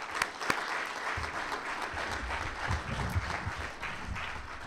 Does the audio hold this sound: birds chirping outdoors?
no